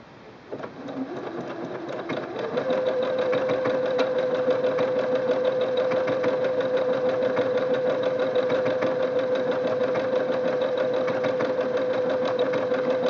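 A Singer Quantum Stylist 9960 sewing machine stitches decorative patterns, starting with a few slower strokes before settling into a fast, steady motorized whir with a rapid needle rhythm, close and continuous.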